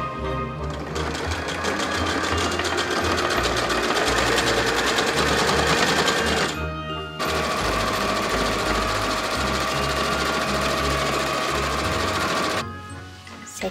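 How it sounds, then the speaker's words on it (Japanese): A domestic sewing machine stitches fabric for a dress in long continuous runs, a fast, loud mechanical whir and rattle close up, briefly stopping twice before starting again. "縫い止まりまで粗めミシンで、縫い止まりから下は普通に縫おう。"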